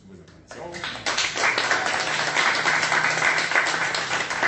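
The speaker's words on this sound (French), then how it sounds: "Sous vos acclamations." Guests at a wedding blessing break into applause for the newlyweds, clapping building quickly into a dense, sustained crowd ovation in an indoor space, with voices mixed in.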